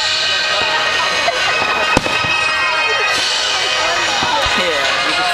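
Fourth of July fireworks burst in 2008, with a sharp nearby bang standing out from a steady crackling, popping wash of distant explosions, while people talk in the background.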